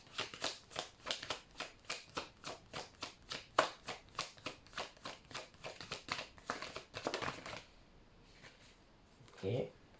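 A deck of tarot cards being shuffled by hand in a quick, regular rhythm of crisp riffling slaps, close and clear, before the shuffling stops and a voice is heard briefly at the end.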